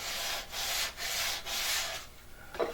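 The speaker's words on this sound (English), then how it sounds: "I think that's as much sanding as I need to do" Rhythmic scratchy strokes of sandpaper rubbing across wood, several back-and-forth passes close by, ending with a light knock.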